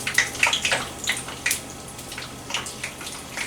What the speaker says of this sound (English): I'm just going to slowly drop this into my oil